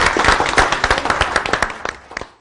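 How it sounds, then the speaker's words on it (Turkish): An audience at a village poetry reading claps for a local poet, a brief burst of loud, close applause that thins into scattered claps and fades out. "Önce bir alkış alalım."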